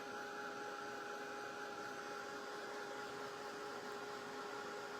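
Steady, even blowing whoosh of a hair dryer running continuously, drying paint on a wooden spindle flag sign from a DIY wood kit, with a constant electric hum and no breaks.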